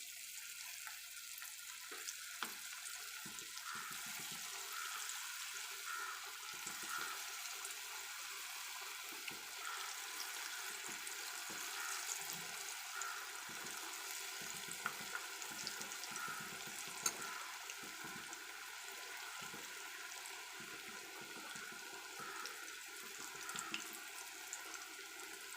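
Cassava (maravalli kilangu) pakoda frying in hot oil, a steady broadband hiss and crackle running throughout, fairly faint with no talking.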